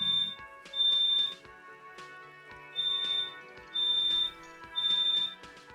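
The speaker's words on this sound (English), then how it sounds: "that's the fire alarm going off" Indoor fire alarm sounds in repeated high-pitched electronic beep bursts, five or so loud pulses, with a faint background of other sounds between them.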